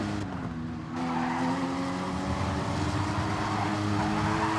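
GT3 race cars in a racing video game drone steadily at Bathurst while braking into a corner, their engines layered with faint tyre scrub at a constant loud level. No one speaks.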